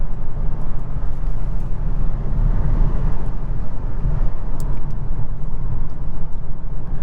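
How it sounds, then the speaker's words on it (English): Inside the cabin of a 2023 Hyundai Ioniq 6 SEL AWD electric car cruising on the highway at about 70 mph, a steady low road rumble with a soft, even wind hush, with no talking. "I'm really amazed at how quiet this cabin is at highway speeds"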